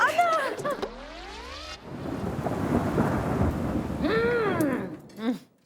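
Thunder rumbles over steady rain falling during a monsoon downpour, with short voice-like tonal sounds at the start and end and a loud rolling burst in between.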